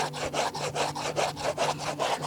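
Peeled sweet potatoes are grated in quick, regular strokes, roughly four per second, each a rasping scrape against the grater, close by and steady.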